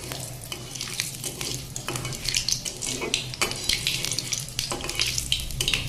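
Panch phoron (Bengali five-spice) sizzles and crackles in hot oil for tempering dal, close up, with a spatula scraping and stirring through the hiss and no one talking.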